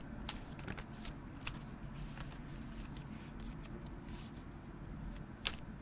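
Tarot cards from a Funko Pop Nightmare Before Christmas deck are shuffled by hand in a soft, steady riffle with a few sharper flicks and snaps, close and quiet, with no voices.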